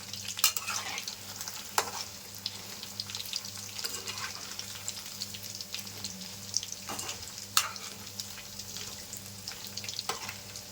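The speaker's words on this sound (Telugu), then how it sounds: "కొంచెం కలర్ వచ్చేంత వరకు వేయించుకోవాలి" Paneer 65 cubes frying in hot oil in a home kitchen, a steady soft sizzle with occasional sharp stirring scrapes and clinks from the pan, close and fairly quiet.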